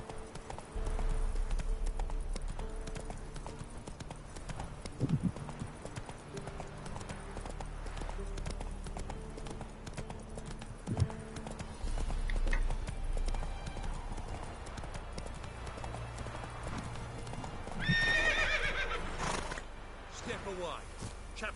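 Horse hooves clip-clopping steadily and a whinny from Roach in The Witcher 3, over game music and ambience, with voices speaking at points.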